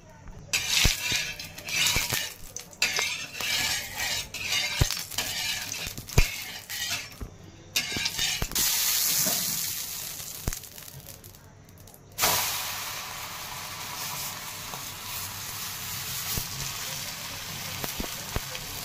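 Oil sizzles and hisses on a hot griddle under frying dhapate flatbread, with scattered clinks and scrapes of utensils against the pan throughout.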